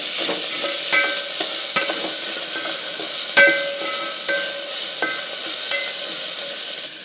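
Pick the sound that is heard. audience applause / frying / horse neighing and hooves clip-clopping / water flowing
frying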